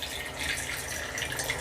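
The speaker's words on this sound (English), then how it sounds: "pour out the brew" Brewed organic sencha tea pours steadily from a teapot, a continuous close trickle of liquid with no talking.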